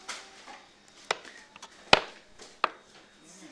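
A kitchen knife cutting through a frozen cake, giving several sharp separate chops and knocks against a board spaced across the moment, with quieter scraping between them.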